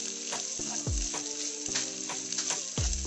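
Okra frying in a pan while being stirred, a continuous bright sizzle broken by repeated close scraping clinks of the spoon against the metal at an irregular, lively pace, with no talking.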